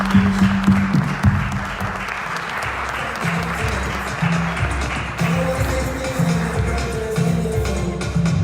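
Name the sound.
audience applause welcoming a speaker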